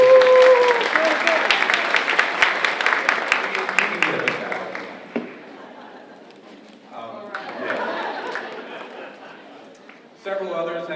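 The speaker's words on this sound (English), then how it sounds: "So if you guys could help me and applaud Carrie Fair for all her work today." An audience at a trauma-informed care conference applauds Carrie Fair, a burst of clapping that fades after a few seconds into quieter chatter and speech.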